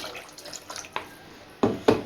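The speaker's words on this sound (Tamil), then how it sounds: "அந்த மிக்ஸி ஜாரே அலசிட்டு கொஞ்சமாக தண்ணி சேர்க்குறேன்." Water splashes and trickles into a rinsed mixer jar in a few short irregular bursts, the last two louder pours close by in a quiet kitchen.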